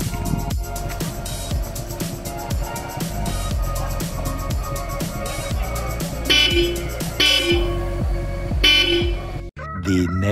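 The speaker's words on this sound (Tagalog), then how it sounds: "Ere nga pala mga idol yung tunog ng busina natin ngayon." A Bosch Europa horn fitted to a Toyota Corolla project car sounds in several loud, bright blasts, mostly in the second half, over a busy, rhythmic background.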